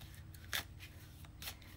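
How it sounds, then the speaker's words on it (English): Slippery cartomancy cards being shuffled carefully, a few faint soft riffling swishes and a sharp snap in a quiet room. "I'm trying to be really careful as I shuffle these"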